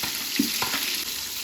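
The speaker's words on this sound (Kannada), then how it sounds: "ಏಲಕ್ಕಿ, ಪಲಾವ್ ಸಾಮಾನು, ಸ್ವಲ್ಪ ಮೆಂತ್ಯ ಸೊಪ್ಪು, ಈರುಳ್ಳಿ ಹಾಕ್ಕೊಂಡು ನೀಟಾಗಿ ಫ್ರೈ ಮಾಡ್ಕೊಳ್ಳೋದು" Onions sizzle in a pan with cardamom, pulao spices and fenugreek leaves, a steady close hiss of frying with a couple of brief stirring clinks.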